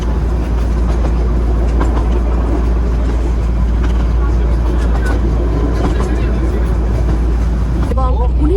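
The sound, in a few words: Darjeeling toy train running on narrow gauge track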